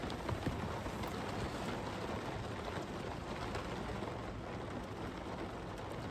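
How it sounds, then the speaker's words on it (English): Heavy rain pounding down during Northwest flooding, a dense, constant hiss of falling water that stays steady and fairly close throughout with no talking. "the rain is just pounding down right now"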